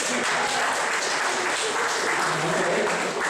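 Sustained audience applause at a startup weekend event, dense and steady clapping filling the room for the whole stretch, loud with a faint voice underneath.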